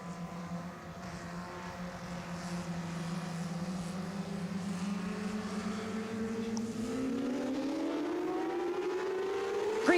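Race cars run green-flag racing past the start-finish line at Grand Bend Speedway with a sustained engine drone whose pitch climbs steadily as the cars come closer, and no voices.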